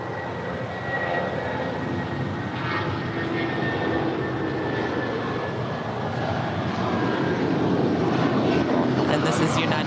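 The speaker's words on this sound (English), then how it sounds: "this is United Flight 1029 off to Denver. It's a 757-200" A United Boeing 757-200 bound for Denver roars on its takeoff run, a broad, steady engine rumble holding for the whole stretch with a thin high whine on top. Faint talk may sit underneath.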